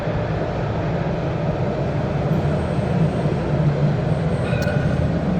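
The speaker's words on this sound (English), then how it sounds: "look at the light rail. I love trains." Jerusalem light rail train rolling past outside the Old City walls, a broad steady rumbling roar close by with a brief squeal near the end.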